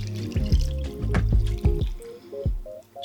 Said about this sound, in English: And then we're going to cover these with cold water to remove some of their starch and to stop them from browning.